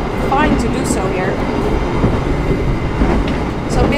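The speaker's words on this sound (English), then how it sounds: "This is the executive train" Executive-class passenger train running from Jakarta to Semarang in Indonesia: a steady, loud interior rumble of the moving carriage with faint rattles, and voices murmuring in the background throughout.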